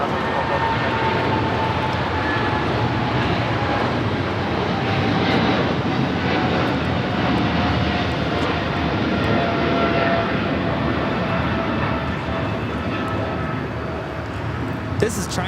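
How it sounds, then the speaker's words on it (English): A China Southern Cargo Boeing 777 freighter takes off at LAX, a steady, loud, broadband jet roar that holds evenly throughout, heard alone. "This is China Southern Cargo 446 taking off to Shanghai on the 777 freighter."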